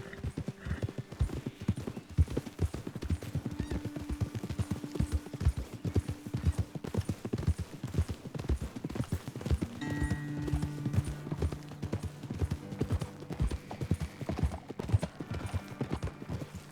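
Horse hooves clip-clop steadily while riding in Red Dead Redemption 2, several horses moving together over open ground in a continuous rhythmic patter, with an occasional whinny and game ambience.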